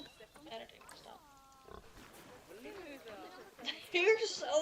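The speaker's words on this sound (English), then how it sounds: "These are the Red River hogs." Red River hogs in the zoo game Planet Zoo grunt and squeal in short, uneven bursts, a few louder near the end, while a person talks over them.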